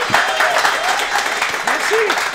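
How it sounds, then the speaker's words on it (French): Studio audience clapping for two guests on a French-language game show, a steady wash of applause with a voice talking over it throughout. "Un peu d'applaudissements pour nos deux invités."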